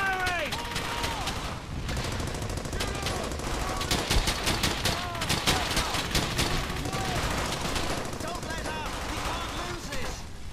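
Sustained gunfire in the WWII shooter Brothers In Arms: Hell's Highway, rapid machine-gun bursts and rifle cracks layered into a dense fusillade with shouting soldiers over the din.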